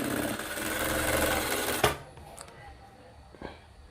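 A sewing machine stitches a folded pleat on a sleeve design in a fast burst of about two seconds that stops abruptly, followed by a few faint handling knocks.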